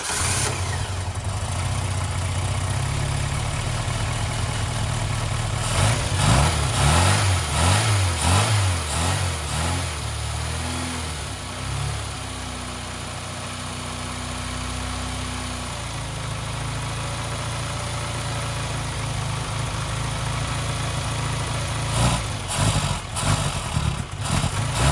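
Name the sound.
rough idling engine of a barn find Austin Maestro car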